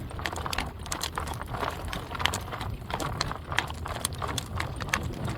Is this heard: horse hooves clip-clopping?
yes